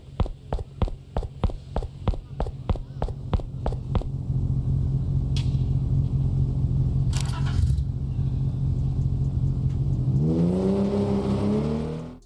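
Car engine in the mobile driving game Car Driving Multiplayer: a rapid series of rhythmic engine pulses, then a sustained droning rev that rises in pitch toward the end, loud and alone.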